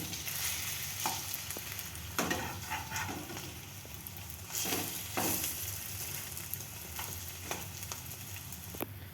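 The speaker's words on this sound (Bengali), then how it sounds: "টোস্টগুলো আমার ভাজা হয়ে গেছে" Bread dipped in egg and topped with onion and chili fries in hot oil, giving a continuous, fairly quiet sizzle with a few sharp clinks and scrapes of utensils against the pan.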